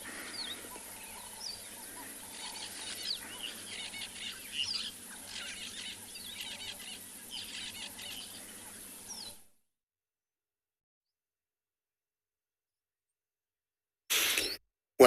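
Birds waking up at dawn on a morning safari in Africa, scattered calls and chirps over a soft outdoor hiss, then the sound cuts to silence.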